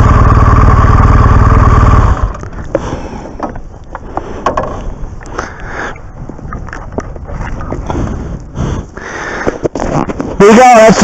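A 2015 BMW R1200 GS Adventure motorcycle roars loudly with strong wind rush for about two seconds. It then drops to a quieter, uneven engine and road sound while someone talks over it.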